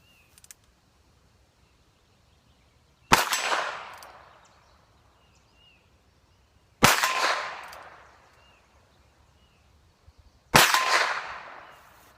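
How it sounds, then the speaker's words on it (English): Three sharp .22 long rifle shots, roughly four seconds apart, from a stainless Ruger Single Ten revolver or a Henry lever-action rifle, each a crisp close crack with a ringing decay, outdoors with no talk. "We're shooting this Ruger single 10 and 22 long rifle"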